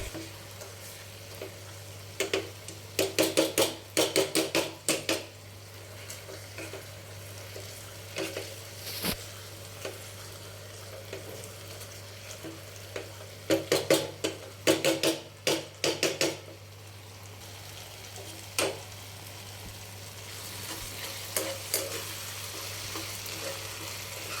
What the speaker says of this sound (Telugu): మేషర్తో కానీ పప్పుతో కానీ ఇట్లా మెదుపుకోండి